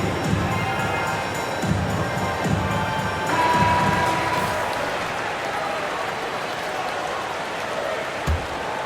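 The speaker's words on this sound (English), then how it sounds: "Nice round of applause for your 76ers ENT." Basketball arena crowd noise and scattered applause for the 76ers, a steady murmuring roar with sneaker and ball sounds, heard under a commentator's voice.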